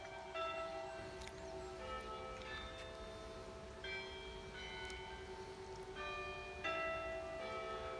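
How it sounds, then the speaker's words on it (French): A church bell rings out in Brittany, several resonant strikes with long overlapping harmonic decay, heard at moderate distance over a steady background hum. "Voilà, on va finir par la cloche."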